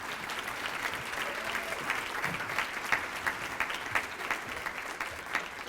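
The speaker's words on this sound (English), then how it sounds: "Let's give a massive round of applause to one of the women who founded this event" An audience at a women's wellness event applauds as the keynote speaker is introduced, steady sustained clapping filling the room with scattered sharper claps.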